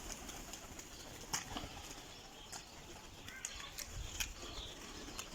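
Pigeons kept in a homemade bird coop, with scattered wing flaps and faint cooing over a steady outdoor background hum, no talking.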